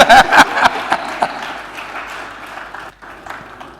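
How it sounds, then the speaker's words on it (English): Audience applause at a Nigerian question-and-answer session, loud scattered clapping at first that thins out into fainter claps and murmur. "If you no clap for me, I go clap for myself."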